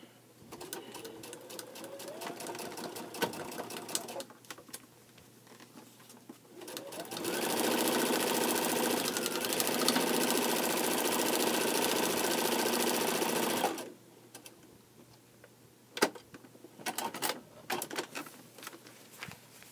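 A sewing machine runs a steady, continuous seam on a quilt block for several seconds, with quieter handling clicks and rustles before and after the stitching.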